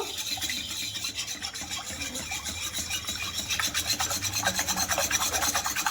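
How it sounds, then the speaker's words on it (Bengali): Yogurt being stirred into milk for a raw mango yogurt recipe, heard as a steady scraping, rubbing swirl of a spoon against the bowl, close up and continuous, growing slightly busier toward the end, with no talking. "দইটা আমি ভালো করে দুধের মধ্যে দিয়ে দেব, দিয়ে ভালো করে মিশিয়ে নেব"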